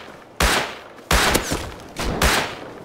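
Three loud, sharp gunshot bursts ring out in Rust, evenly spaced about a second apart, each followed by a short echoing decay, with no talking.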